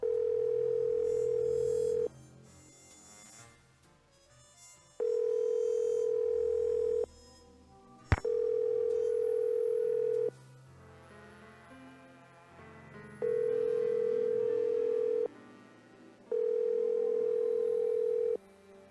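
In the Nancy Drew video game, a failed phone call gives way to a steady, loud telephone tone that sounds in long beeps of about two seconds with short gaps, over faint background music and one sharp click.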